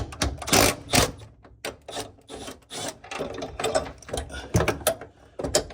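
A ratchet wrench loosens bolts during a car clutch pedal install, giving bursts of rapid, close, rasping clicks in uneven strokes with short pauses between them and no talk.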